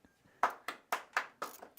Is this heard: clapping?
yes